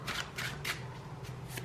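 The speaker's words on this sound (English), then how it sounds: "I want to live shuffle some tarot for you" Tarot cards being shuffled by hand, several soft riffling bursts in a steady rhythm, close and quiet with no talking.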